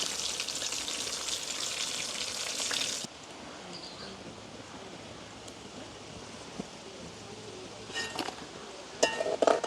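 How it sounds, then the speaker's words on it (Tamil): Mushrooms frying in a pan in a village kitchen: a dense, loud sizzle for the first three seconds that then drops to a quieter simmer, with a few clinks of utensils near the end. "அதோட நாங்கள் இப்படி எல்லாத்தையும் பொரிச்சு எடுப்போமே என்ன."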